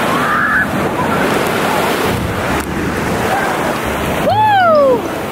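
Ocean surf rolls in at a Florida beach, a continuous wash of waves mixed with wind buffeting the microphone, with a brief whistling tone near the end.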